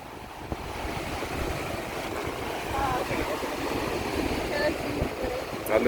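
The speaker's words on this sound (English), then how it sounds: "very windy." Strong wind buffets the microphone as ocean waves break at a river mouth near Portland, a steady broadband roar of surf and gusts with no clear pauses.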